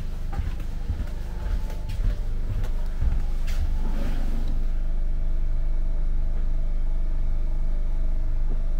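A diesel locomotive engine idles after starting, a steady low rumble with some clanks and knocks early on. It stays fairly loud and even throughout, with no speech.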